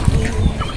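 Ducks in a village give a few short, close, overlapping quacking calls in a brief burst, with no voices.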